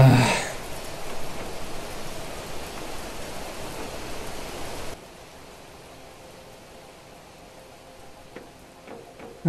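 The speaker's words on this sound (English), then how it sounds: "Entry, and it's raining, of course." Steady hiss of rain in the video game Planet Crafter, louder at first and then dropping to a softer patter halfway through, with no voices.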